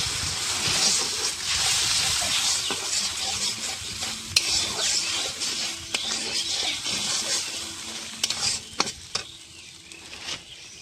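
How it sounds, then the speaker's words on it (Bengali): Spices with salt and turmeric being stirred in a pan, a soft sizzle that fades over time, with intermittent spatula scrapes and knocks growing sharper toward the end. "অল্প হলুদ, এটা আমি ভালো করে নেড়ে চেড়ে নেব।"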